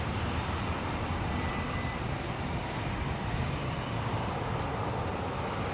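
A Qantas Boeing 737 roars steadily at an airport at sunset, a continuous broadband jet rumble that holds constant and fairly loud throughout, with no voices.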